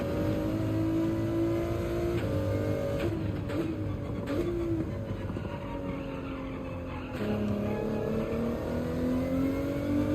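Race car engine in Gran Turismo 7 during a wet-threatened race at Spa-Francorchamps, droning steadily with rising and falling revs through gear changes, loud and continuous with brief tire squeal, no talk.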